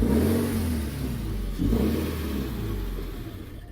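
Engine of a Toyota 86 just after a stage 4 competition clutch and flywheel install, close and loud, revving and sagging as if struggling to keep running, with no talking.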